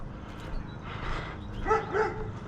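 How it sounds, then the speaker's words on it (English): A dog barks a few times at a distance during an outdoor walk, short yips rising over steady background noise with no talk. "we got another dog over there barking at me"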